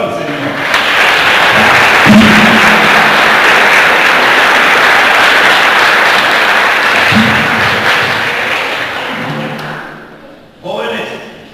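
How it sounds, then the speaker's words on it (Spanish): A church congregation breaks into sustained, loud applause that fills the room for several seconds and then fades out, ending with a voice speaking. "Denle un aplauso al Señor."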